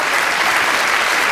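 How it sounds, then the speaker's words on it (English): A comedy club audience breaks into steady, dense applause, loud and close, a continuous wash of many hands clapping with no talk on top. "ladies, a round of applause for Steve."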